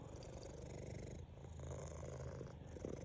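A cat purring, a steady low rumbling drone that runs continuously and close, quiet overall.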